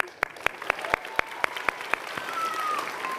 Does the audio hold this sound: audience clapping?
yes